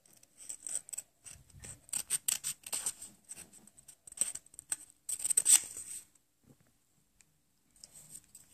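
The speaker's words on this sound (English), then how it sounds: "When you draw it, you start cutting it out." Scissors snip around a hand-drawn paper sword and dirt brick in quick, close, crisp cuts for about six seconds, then fall nearly silent.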